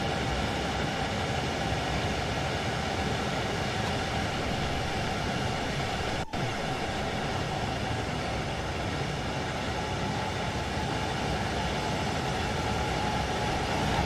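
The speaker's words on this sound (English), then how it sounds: "We should probably slow the train down, actually." A Class 66 diesel locomotive driven in Train Sim World 3 on the Brighton Line gives a steady, loud rumbling drone with no letup, broken only by a single brief click near the middle.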